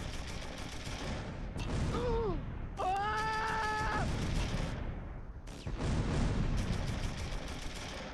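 Gunfire from the World War II strategy game Close Combat III plays as dense rolling bursts and distant booms, with brief whining tones partway through.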